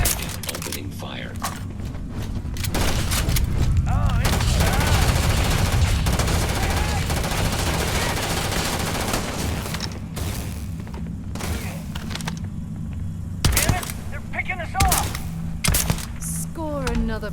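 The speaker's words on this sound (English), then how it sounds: "Opening fire." Gunfire in Starfield rings out as bursts and single shots, cracking in clusters over a droning game backdrop, with some louder blasts near the end and voices heard now and then.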